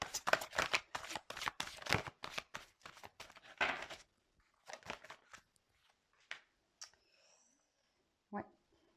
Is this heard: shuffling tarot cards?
yes